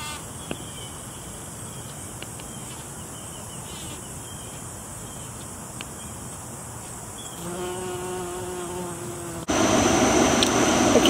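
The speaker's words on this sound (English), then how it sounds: "I say bumblebees love these." Bumblebees hum around balsam impatiens flowers in a garden, a steady, fairly quiet buzz that runs throughout, with a louder, closer burst of buzzing near the end.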